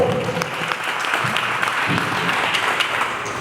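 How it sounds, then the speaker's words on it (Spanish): Loud, steady audience applause fills a political gathering, dense continuous clapping from a crowd with a faint voice or two mixed in, holding at full strength throughout. "pido el más estruendoso de los aplausos que pueda producirse en este humilde acto político"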